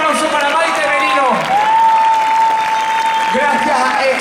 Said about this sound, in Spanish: Un fuerte aplauso para Maite Merino.